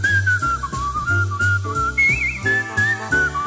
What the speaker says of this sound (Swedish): då kommer jag hit under balkongen och visslar.